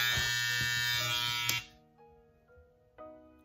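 Babyliss Pro Black FX skeleton hair trimmer with an exposed graphite blade, buzzing loud and close at a steady pitch, then cutting out after about a second and a half, leaving a faint hum and a small click.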